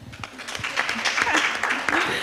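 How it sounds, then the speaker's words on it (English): Scattered audience clapping at the close of a panel session on AI and entrepreneurship, a short burst of applause mixed with background voices. "And a round of applause for me."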